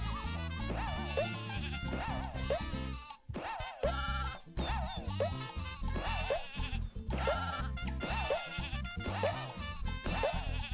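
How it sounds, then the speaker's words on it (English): Sheep bleat repeatedly in the 1990s 3D platformer Croc: Legend of the Gobbos: rising, wavering calls recur every second or so over loud, continuous game music. "that's a 90s sheep right there"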